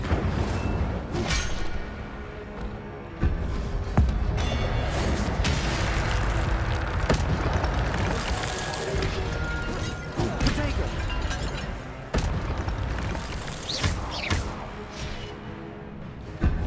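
Repeated fire-spell casts from Hogwarts Legacy, loud whooshing bursts and crashing impacts mixed with combat clatter and a game soundtrack, with sharp hits recurring every few seconds throughout.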